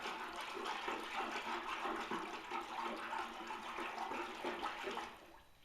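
Liquid pottery glaze, a milky glaze, being stirred in a container, a continuous watery swishing and sloshing that holds steady and then fades out near the end.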